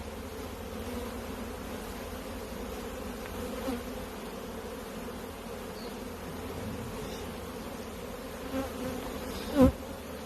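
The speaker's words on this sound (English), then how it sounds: "I'm just shaking these bees" Honey bees buzz in a dense, steady drone as they are shaken off a brood frame from the top brood box of a hive, a continuous close swarm hum with a couple of faint knocks near the end.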